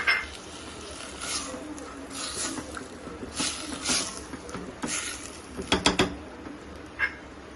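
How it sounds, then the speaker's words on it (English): Chana dal and tamarind pulp being stirred in a pot, with a few soft clinks and scrapes of a utensil against the metal, clustered near the end over a quiet kitchen background. "I'll be adding the tamarind pulp. I'll give it a mix."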